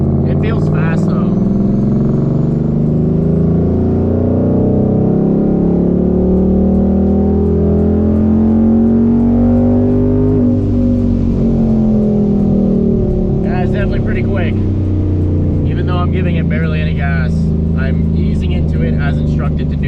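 A supercharged Ford Mustang GT with an ESS G3X supercharger at full throttle on a dyno, pulling from 3,500 to 6,500 rpm as one continuous loud, rising engine roar, then a brief drop and crackle afterward.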